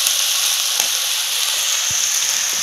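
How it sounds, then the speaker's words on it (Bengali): Potatoes fry in a pan on a gas stove, giving a steady, close sizzle with scattered sharp crackles and pops throughout. "আলু ভাজা চলছে এখানে"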